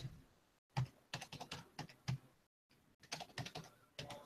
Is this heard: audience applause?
no